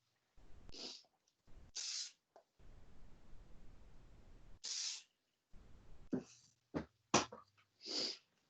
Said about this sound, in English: spray all those little bits of hair down.